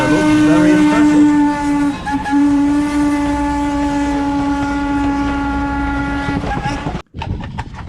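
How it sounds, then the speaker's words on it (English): A loud, sustained train horn blares for several seconds over rumbling rail noise in Pennsylvania, with a brief cut near the end before the rumble resumes. "here we have another train going the other way"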